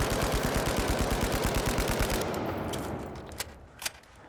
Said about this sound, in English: So I'll just shoot my gun here to give an example. It's gonna rev up as it just shoots.